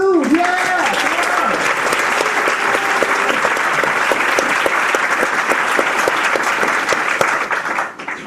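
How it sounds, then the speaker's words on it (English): Loud, sustained applause from the audience at a BettaKultcha presentation evening in Leeds, welcoming the next presenter. Dense clapping runs steadily for about eight seconds with some cheering and voices mixed in at the start, then thins at the end. "So, again, a big round of applause for Kate Booth!"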